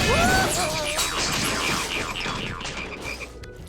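Frogs croaking in an animated children's show, a busy chorus of croaks and warbling chirps mixed with clattering, crashing effects, loud and close, thinning out toward the end.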